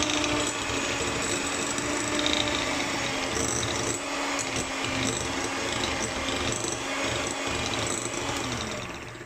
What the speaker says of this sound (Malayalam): ഒരു സ്ലോ സ്പീഡിൽ നമുക്കിതൊന്ന് ബീറ്റ് ചെയ്തെടുക്കാം.